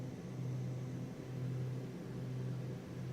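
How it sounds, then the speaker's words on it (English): Steady droning hum of a Beechcraft Duke's twin piston engines heard inside the cockpit in Microsoft Flight Simulator 2020, a low constant rumble with slight swells, fairly quiet and uninterrupted. "love you to hear the wonderful engine sounds here"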